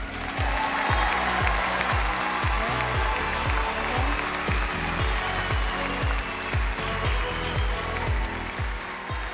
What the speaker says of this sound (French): Merci d'acclamer Michael Essien.